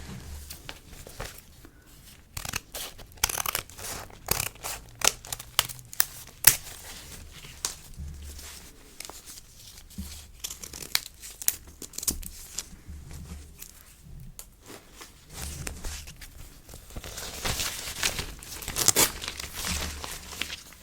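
Old paper catalogue pages are torn, crinkled and snipped with scissors at close range in irregular bursts of rustling and ripping, with quieter pauses between.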